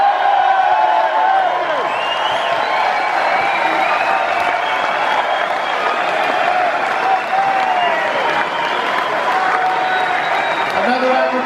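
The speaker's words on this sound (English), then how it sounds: "please give a huge round of applause to Phil Davis" A crowd at a Quadrophenia immersive cinema Q&A at the Hammersmith Apollo applauds and cheers as a guest takes the stage, with sustained clapping, whoops and shouts mixed with loud, echoing amplified talk over the hall.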